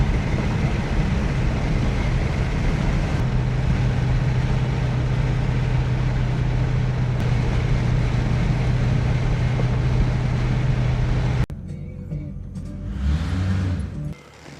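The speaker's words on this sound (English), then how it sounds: "That pump is just kind of whiny, and I'm not sure what to do about it." A Cadillac Eldorado cruises with a steady engine and road drone and a continuous whine from its pump running under it. The drive cuts off near the end, leaving quieter noise, and someone talks throughout.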